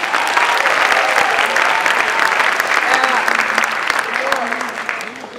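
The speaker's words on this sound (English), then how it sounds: "So can we give her a round of applause?" An audience at a youth jobs event gives a round of applause, loud continuous clapping with some crowd voices mixed in, steady for several seconds before easing slightly at the end.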